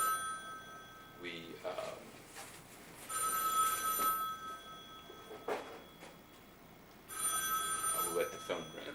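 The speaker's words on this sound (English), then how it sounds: "I will let the phone ring, I think." A telephone rings indoors in repeated bursts of bright trilling bells with pauses between them, moderately loud, sounding over and between someone talking.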